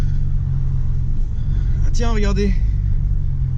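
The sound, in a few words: car engine while driving and shifting gears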